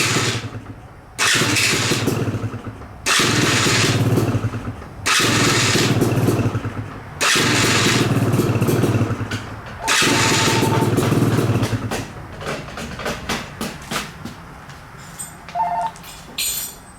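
KTM dirt bike kicked over without choke, engine catching in repeated loud bursts of a few seconds each and dying between tries, ending in quieter irregular sputters.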